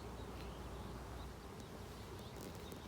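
Honey bees buzz in a dense, constant drone at close range while a beehive is opened and inspected, the hum steady throughout with no speech.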